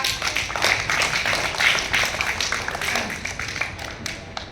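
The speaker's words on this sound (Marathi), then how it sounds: "जिंकलेल्या मुलांसाठी टाळ्या वाजवा" A group of children claps for the winners at a children's game session, a loose run of hand claps that continues steadily then thins out toward the end.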